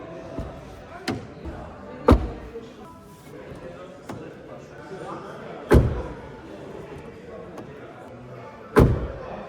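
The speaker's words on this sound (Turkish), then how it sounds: "Kapı kapanma sesleri haberi beni aşırı şaşırttı" Car door on a Citroen e-C3 Aircross slamming shut several times, each a solid, deep thud spaced a few seconds apart, over faint background ambience.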